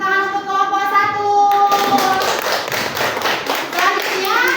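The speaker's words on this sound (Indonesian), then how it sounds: "Tepuk tangan untuk kelompok 1." Classroom applause for a student group, a burst of hand clapping that starts a moment in after a sustained tone and continues close and fairly loud, with children's voices mixed in.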